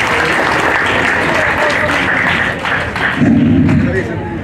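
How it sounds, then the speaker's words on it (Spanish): Close, loud applause from wedding guests at a religious ceremony in Huaraz, many hands clapping at once with a few thuds mixed in. "nos vamos a recibir con fuerte voto de aplausos"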